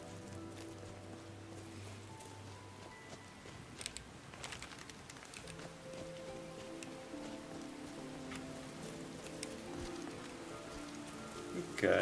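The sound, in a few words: rain in a video game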